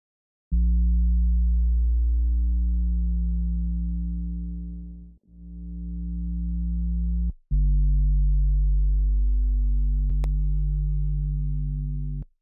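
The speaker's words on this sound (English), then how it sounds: "is just playing a square D waveform and a sine waveform" A deep, steady synth sub bass drone of square and sine waves, cut off at 170 hertz, plays alone, swelling and sustaining as two held notes with a brief cutoff between them.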